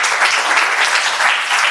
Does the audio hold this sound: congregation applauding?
yes